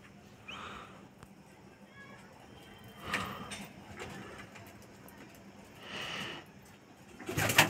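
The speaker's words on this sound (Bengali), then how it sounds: "আমাদের পায়রাগুলো এক এক করে খুবই ঢুকতে শুরু করে দিয়েছে" Pigeons coo softly around their coop in short separate bursts, quiet and spaced out, with a person speaking nearby and a brief clatter at the end.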